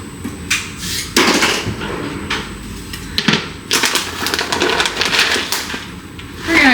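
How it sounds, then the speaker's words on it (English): Walnuts being chopped with a knife on a board for cinnamon discs: a run of sharp, close knocks and taps in an irregular rhythm, with short gaps between bursts and no talking. "So first off, I need to cut those nuts."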